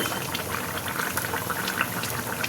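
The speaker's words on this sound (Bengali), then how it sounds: "সুন্দরভাবে ঝোল ফুটে গেছে দেখো" Hilsa fish curry with potato and eggplant bubbles in a pot, a dense, steady simmering hiss with small pops, close and continuous with no voices.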